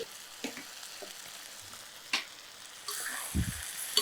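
Quail with small potatoes and cumin frying in a pan, a faint soft sizzle with a few light stirring knocks and scrapes, growing brighter toward the end.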